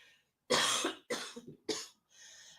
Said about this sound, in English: Hold on a second. I got a cough.